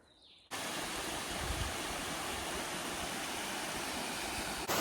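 A steady, loud rush of falling water from a waterfall beside a mountain trail on the Appalachian Trail, a continuous broadband roar that starts abruptly after a brief quiet moment and holds unchanged throughout, with no voices.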